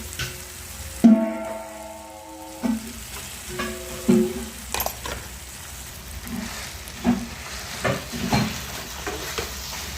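Potatoes frying in a hot pan for aloo paratha filling, a constant sizzle broken by a series of stirring scrapes and clinks spaced a second or two apart, with no talk.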